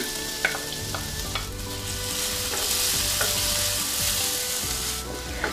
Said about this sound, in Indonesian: Tumis hingga bau setengah harum ya teman-teman. Kemudian masukkan bawang putih cincang.